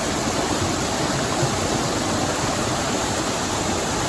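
Creek water rushing two days after a storm at a gold-prospecting spot, a loud, continuous broadband roar of flowing water close by with no voices.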